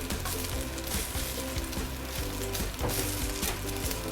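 A metal spoon scrapes and clatters in a wok while beehoon fries, giving quick irregular clinks and scrapes over a constant sizzle, fairly close and without talk.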